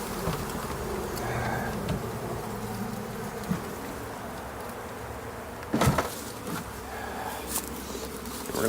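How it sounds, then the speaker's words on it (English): Honeybees shaken into a hive box at a new apiary in early spring give off a steady, close, continuous buzzing hum, with a few sharper bumps and knocks partway through. "So let me just shake these remainder bees in here."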